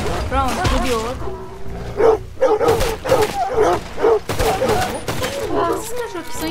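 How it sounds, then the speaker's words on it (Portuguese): Dogs bark and yip in the Red Dead Online video game, with quick repeated barks scattered under near-continuous talking that dominates the mix. "Esses cachorros aqui são estranhos."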